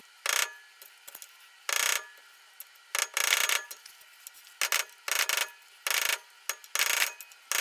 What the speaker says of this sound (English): I'm going to take a screwdriver between the hub and the cap and tap it in